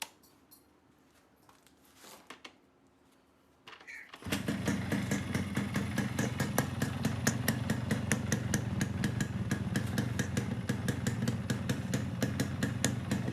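A restored Yamaha RX100 two-stroke motorcycle engine fires up after a few quiet clicks and then runs with a loud, steady, rapid popping idle close by, alone with no speech.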